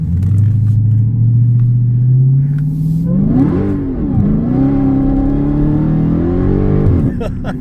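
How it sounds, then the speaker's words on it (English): A Mopar car at a car show revs hard with tires spinning, the engine note rising from a low rumble into loud, sweeping climbs and dips, close and dominating. "And the tires are all spinning"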